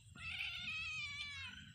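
A cat gives a single clear, drawn-out meow lasting over a second, close and prominent against a quiet background.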